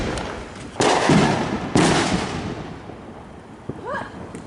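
Fourth of July fireworks bursting in the sky: two loud booming explosions about a second apart, followed by fainter distant pops and a rising whistle near the end, heard outdoors with no talk.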